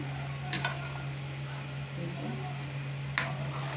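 Chana dal and sweet pumpkin stirred in a pan: a few sharp utensil scrapes and clinks against a low, steady hum and a faint sizzle, with a voice present.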